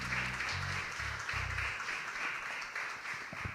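Applause for the Lord from a church congregation at a Sunday Easter communion service, broad steady clapping with low voices or instruments below, continuous and fairly loud.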